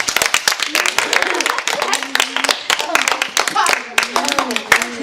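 Children in a workshop clap their hands in quick, uneven bursts close by, the sharp claps scattered across the whole stretch while voices talk and call out over them.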